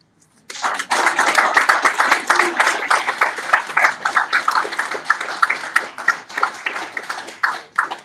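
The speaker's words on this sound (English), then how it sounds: "Let us please have another round of applause for State Attorney." Applause from an audience at a campaign event for a judicial candidate, with steady rapid clapping that starts abruptly and gradually thins toward the end.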